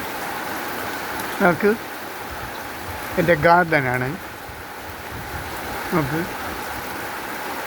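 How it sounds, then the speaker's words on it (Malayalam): Heavy monsoon rain falls on a home garden of flowering plants as a steady, close hiss, while someone speaks briefly over it a few times. "നല്ല മഴ."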